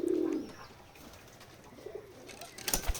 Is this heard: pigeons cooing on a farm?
yes